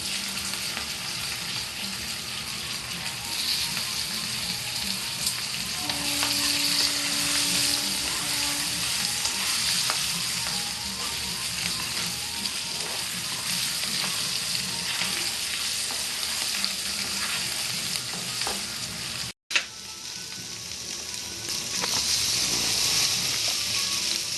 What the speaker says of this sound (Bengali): আলুটা একটু ভালো করে আমি ভেজে নেব আলাদা করে আলুটা আগে ভেজে নেব